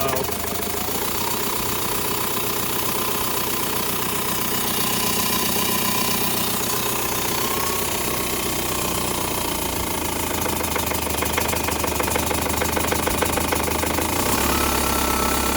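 A diesel TDI swap engine idles low and rough, a steady uneven rumble with knocking throughout, loud and close with no voices.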